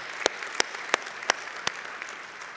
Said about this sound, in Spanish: Dale un fuerte aplauso al Señor porque Él es bueno